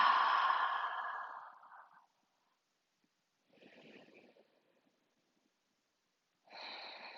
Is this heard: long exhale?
yes